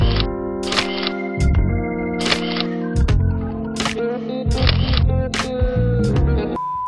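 Camera shutter clicks go off in a quick series during a posed photo session at a cosmetic clinic, about six sharp snaps spread evenly over steady background music.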